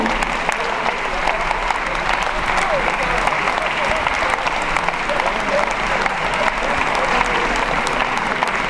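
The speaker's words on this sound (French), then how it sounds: "Et je crois qu'on peut encore vous applaudir." Applause from an audience at a left-wing political rally with a DJ set in Brest, a dense, steady clapping that fills the room and holds at an even, loud level throughout.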